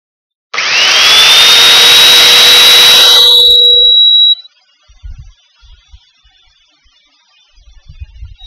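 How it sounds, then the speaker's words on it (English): A power drill bores a hole in a wooden chuckbox with one loud, close, high whine lasting about four seconds that cuts off sharply. Faint knocks follow in near silence. "Now I can still drill the hole"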